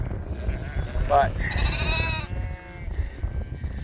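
Hair sheep bleating on a farm, one or two short calls rising briefly above a steady outdoor rumble, with someone talking over and around them.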